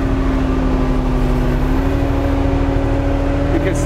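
A Kubota RTV utility vehicle engine fitted with a hand throttle kit runs loud and close, holding a steady drone with strong low harmonics as the throttle is pressed, with no voices.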